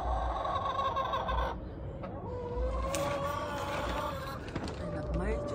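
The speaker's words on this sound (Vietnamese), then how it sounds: "Đây là mấy chú gà đấy." Large domestic hens kept at home cluck and murmur in a steady run of short calls, close by, partly under a person talking.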